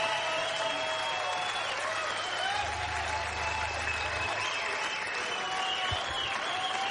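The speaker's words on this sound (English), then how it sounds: "Another round of applause" Concert audience at a live session applauding steadily throughout, a dense wash of clapping from the crowd with no speech over it.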